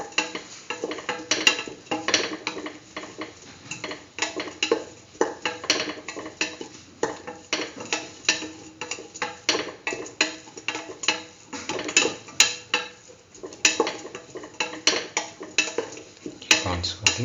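Cumin tomato rice is stirred in a pan, with repeated close scraping and clinking of a utensil against the pan in an uneven rhythm, alongside a faint sizzle.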